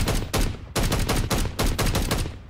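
Loud, close automatic gunfire from a weapon in a shooter video game, several rapid bursts separated by brief gaps across a few seconds, with no talking over it.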